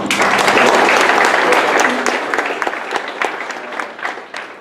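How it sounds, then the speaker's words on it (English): Applause from an audience at a college graduation day ceremony, loud dense clapping that starts strong and gradually thins to scattered claps, with a voice briefly heard. "The great round of applause."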